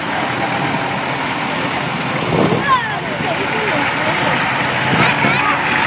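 An old Ford tractor idles at an agricultural show tractor parade in Flint and Denbigh, making a steady, loud, low engine drone with small swells in volume.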